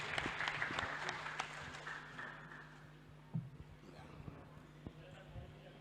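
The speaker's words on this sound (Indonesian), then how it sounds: "Ya, tepuk tangan untuk mereka." Scattered applause from attendees at a regional customary council meeting in West Papua, quiet and somewhat distant, with irregular claps fading over a few seconds beneath a low steady hum and faint voices.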